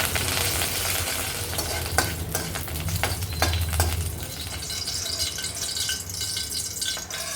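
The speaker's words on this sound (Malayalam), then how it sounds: "ഇനി ഇതിൽ രണ്ട് തണ്ട് കറിയപ്പലയും കൂടി ഒന്ന് വറുത്തെടുക്കാം" Curry leaves crackle and sizzle in hot oil, loud and close, with occasional sharp pops and stirring scrapes.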